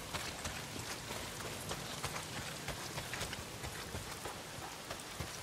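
Heavy rain pours steadily in the Days Gone game world, a dense constant hiss with scattered sharper drop impacts, loud and close with no talking.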